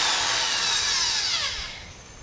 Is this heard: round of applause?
no